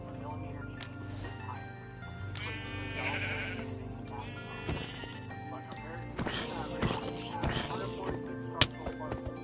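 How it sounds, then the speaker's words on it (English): Sheep in the Minecraft video game bleat several times in short, digitized calls, set against game background sounds while a player talks at moderate volume. "Sheep!"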